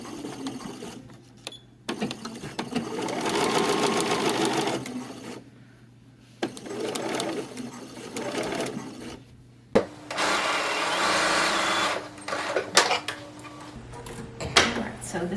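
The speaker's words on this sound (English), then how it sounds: "We're just going to sew this little curve" Sewing machine fitted with an even feed foot stitching a small curve in a pull-on jeans project, running in bursts of rapid mechanical chatter separated by short pauses, close and clear.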